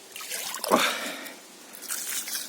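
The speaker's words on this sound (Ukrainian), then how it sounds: "Я брав кружкою воду намилився, змив трошечки під себе" Water from a mug splashes and trickles down while rinsing soap off outdoors in a forest by a cold spring, a brief pour and dribbling followed by softer sloshing.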